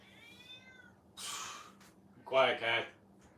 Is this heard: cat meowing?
yes